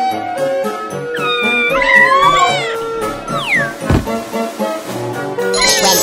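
Cartoonish cat meows from the Super Granny 4 video game, several rising and falling high-pitched mews in quick succession over light background music, with no talking.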